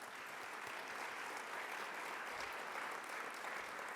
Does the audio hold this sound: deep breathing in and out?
no